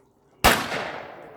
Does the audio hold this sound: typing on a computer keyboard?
no